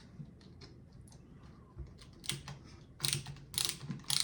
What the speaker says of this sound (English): We'll get our hex bit and we'll take off these bolts